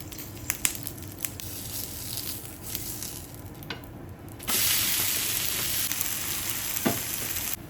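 Uthappam batter sizzles loudly on a hot pan after being flipped, a dense frying hiss that swells sharply midway, with scattered spatula taps and scrapes close by and no voices.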